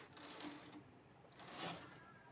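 A knitting machine carriage slides across the needle bed while making a woollen blouse, giving a soft, steady mechanical whir and rattle that swells and fades twice, faint and close.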